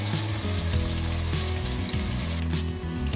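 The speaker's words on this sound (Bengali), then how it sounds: "খুব ভালো করে মিশিয়ে নিয়ে কষিয়ে নেব 3 মিনিট পর্যন্ত।" Chopped tomatoes and ginger garlic paste fry in a pan for an egg and potato curry, a soft continuous sizzle sitting under a louder steady hum and tonal background noise.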